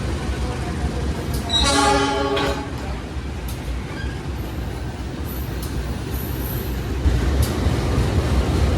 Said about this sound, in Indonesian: Wih, ini ada kereta semen.